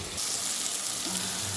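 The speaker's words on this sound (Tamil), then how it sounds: "3 டம்ளரு நான் வந்து தண்ணி ஊற்ற போகிறேன்." Water poured into a pan while cooking rava upma, a steady close hiss and gush like liquid hitting a hot pan, with a brief low sizzle near the end.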